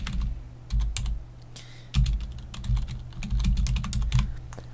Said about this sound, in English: All you have to do is type out what you want